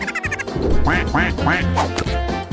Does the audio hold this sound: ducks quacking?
yes